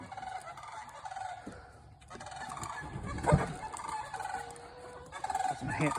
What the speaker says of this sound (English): Some sandhill cranes flying over.